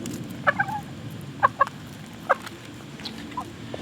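Several short clucks from chickens come in scattered bursts over a quiet background hum, some doubled, fading to softer calls at the end.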